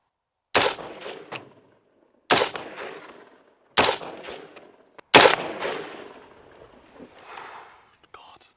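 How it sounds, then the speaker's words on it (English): Four loud, sharp AR-15 rifle shots ring out one by one about one and a half seconds apart, each trailing off in an outdoor echo, followed by a faint voice. "So this is the famous AR-15 rifle."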